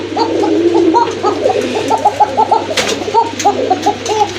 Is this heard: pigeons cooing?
yes